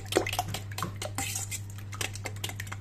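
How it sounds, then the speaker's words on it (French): Leeks sautéed in olive oil, salt and pepper are stirred into a salmon tart filling in a dish, giving steady wet scraping and clinking of a utensil against the dish, close up, over a constant low hum. "Ensuite, je mélange bien."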